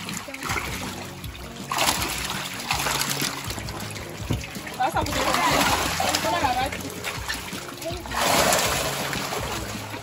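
Water splashes and trickles in bursts as catfish are returned to clean water in a home mud-pond fish farm in Cameroon, with a person talking throughout.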